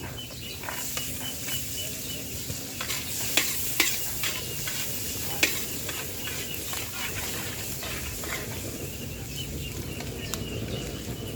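Garlic fries in margarine in a pan while being stirred, making a steady close sizzle broken by repeated scraping strokes and a few sharper clacks from the utensil. It was cooked for a barangay fiesta, and no one talks.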